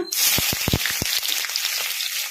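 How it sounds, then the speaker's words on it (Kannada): Chopped onions fry in hot oil with mustard seeds and cumin, giving a loud, steady sizzle broken by a few sharp crackles and pops of spluttering seeds early on. "ಉಳ್ಳಾಗಡ್ಡಿ ಗೋಲ್ಡನ್ ಬ್ರೌನ್ ಕಲರ್ ಬರೋವರೆಗೂ ಫ್ರೈ ಮಾಡ್ಕೊಂಬಿಡೋಣ"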